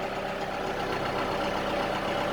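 Tractor engine idling steadily at close range during farm work in a field, a continuous low mechanical drone with even rumble throughout and no speech.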